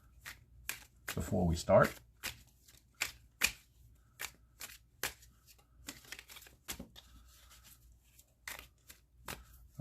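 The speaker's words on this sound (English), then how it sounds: "I'm going to shuffle them and flip them" A deck of cards is shuffled for a tabletop baseball game, with a burst of riffling followed by a string of sharp, close card snaps and flicks. Someone talks over it.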